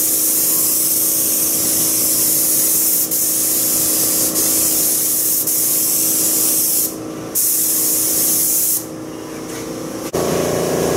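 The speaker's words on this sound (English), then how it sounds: "So I'm gonna start spraying these shelves and stack them up." A paint sprayer spraying shelves, a loud continuous hissing spray close by with brief pauses and changes in tone as the trigger is released and pulled again.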